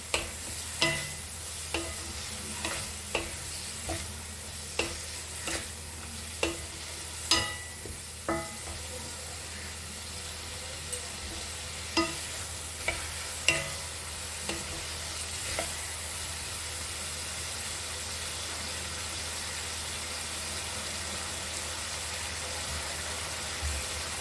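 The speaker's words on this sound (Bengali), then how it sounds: "যতক্ষণ না তেল ছাড়বে ততক্ষণ আমি কষবো।" Cabbage frying with spices in hot oil for a Bengali cabbage ghonto, a constant soft sizzle broken by a dozen sharp spatula strokes against the pan in an uneven rhythm, close by, with no talking.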